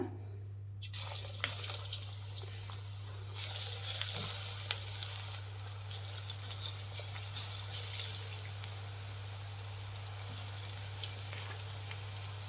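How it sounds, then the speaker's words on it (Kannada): Raw banana pieces fry in hot oil, a dense, steady sizzle with crackling bursts that starts after a brief silence and continues loud and close throughout, over a constant low electrical hum. "ಎಣ್ಣೆ ಕಾಯ್ದಿದೆ. ಈಗ ಇದು ಒಂದೊಂದೇ ಬಾಳೆಕಾಯಿ ಹಾಕ್ಕೊಳ್ಳೋಣ"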